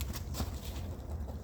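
Backyard chickens cluck softly in short irregular bursts over a low steady background hum, fairly faint and without any talk.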